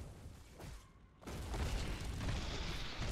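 Ten heavy shots fired at a tower in Heroes of the Storm, heard as a dull boom after a quiet gap, followed by a sustained dense rumble of impacts and game effects.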